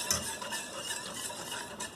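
A vanilla pudding mixture of milk and sugar is stirred in a pot on the stove, a steady scraping swirl with faint clinks of the utensil, heard close with no talking.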